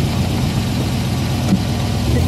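Original blue 1964 Shelby AC Cobra with its 289 V8 running, a steady, close low-pitched rumble that holds even throughout with no clear revving.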